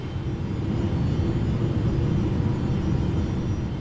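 A Boeing 777 cargo airliner on final approach in a flight simulator gives off a steady, loud, low engine rumble with broadband wind-like hiss, constant and unbroken throughout, with no speech.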